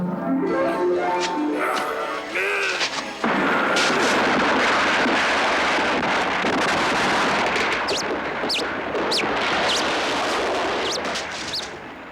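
In a cartoon, a stone wall is destroyed and heavy stones tumble down. A few musical tones open, then a loud sustained crashing rumble takes over, with scattered sharp cracks as the debris falls.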